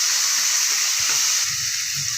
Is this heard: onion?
yes